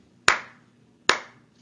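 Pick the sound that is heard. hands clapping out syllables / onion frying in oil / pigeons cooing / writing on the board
hands clapping out syllables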